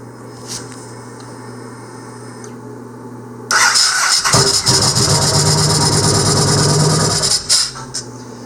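A Yamaha XV1700 Warrior motorcycle engine, fresh from a fuel injector repair, cranks and catches after a quiet stretch, then runs loud and rough up close for several seconds before cutting back.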